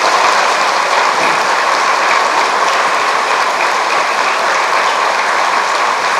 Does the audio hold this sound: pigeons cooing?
no